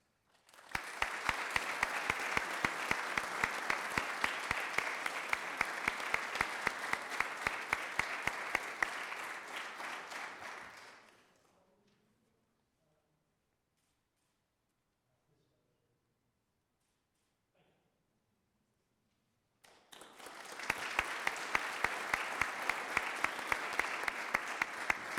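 An audience claps loudly at a police special constables attestation ceremony, with dense sustained applause that fades to near silence and then starts again.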